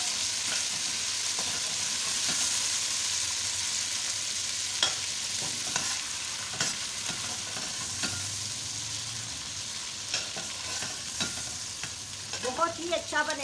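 Mutton mince fries in a karahi with a steady, even sizzle, broken by occasional spatula scrapes and taps against the pan, close up, with a brief voice near the end.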